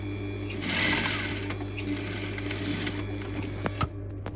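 A sewing machine stitches a coat collar in a steady, close mechanical whir that runs for several seconds, then stops with a few sharp clicks near the end.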